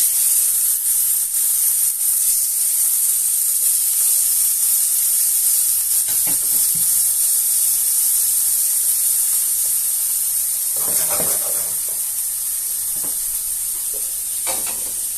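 Food fries in a frying pan with a constant bright, hissing sizzle, joined late by a few soft clatters of utensils against the pan.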